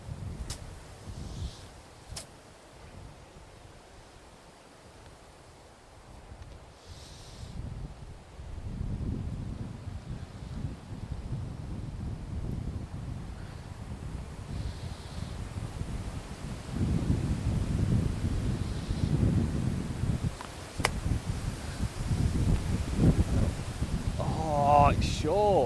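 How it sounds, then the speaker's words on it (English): Wind gusting across an open golf course, a low rumbling rush buffeting the microphone that builds stronger toward the end, with people talking intermittently under it. "as you've hit it, wind blew. It's just a big gust."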